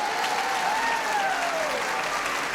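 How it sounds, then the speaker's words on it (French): Women in the audience of a French stand-up comedy show applaud, steady, even clapping that fills the room throughout while a voice carries on faintly over it. "Et là, il n'y a que les filles qui applaudissent"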